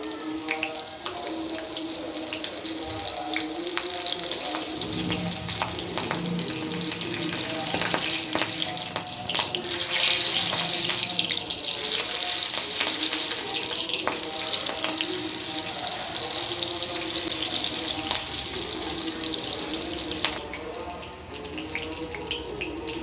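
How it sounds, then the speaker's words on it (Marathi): Slit green chillies fry in hot oil for potato bhaji, giving a loud, steady, crackling sizzle that runs the whole time with faint kitchen clatter in the background. "आता आपण मिरच्या तळून घेऊ ह्या मिरच्या आपण पोट फाडून घेतलेल्या आहे"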